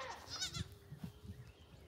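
A farm animal, tagged as goat, gives a deep, strained bleat near the mic, one drawn-out cry followed by short grunting pulses, fairly faint overall.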